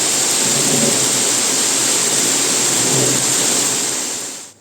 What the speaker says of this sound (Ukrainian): Це град!